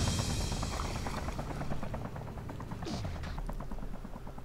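ArmA 3 helicopter rotor thumping under continuous gunfire and explosions, the chopping beat steady throughout.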